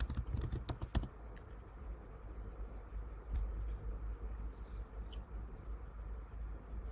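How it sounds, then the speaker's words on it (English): Rapid bursts of keystrokes on a computer keyboard at the start, followed by a few isolated taps against a low, steady room hum. "I know I'm typing slow"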